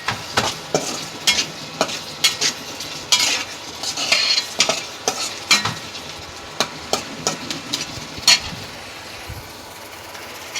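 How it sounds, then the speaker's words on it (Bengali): Masala for a prawn curry is stirred and sautéed in a pan: a spoon clatters and scrapes in frequent irregular knocks over a continuous sizzle, close and alone without speech, easing off toward the end. "এটা ভালো করে কষিয়ে নিব"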